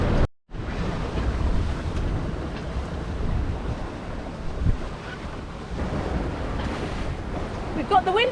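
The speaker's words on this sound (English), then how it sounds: "The sea's a little bit up because of the wind, but we've got about half to 1 metre worth of wave stroke swell" Sea waves and wind heard aboard a sailboat under windvane steering in half to one metre swell: constant wind rush on the microphone over washing surf and hull splashes, loud and close, with a brief dropout at the start.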